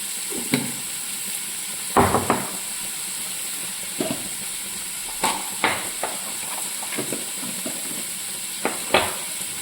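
Onions sautéing in a pan for Karaikudi chicken curry, with a steady soft sizzle under intermittent clinks and scrapes of a stirring spoon against the pan.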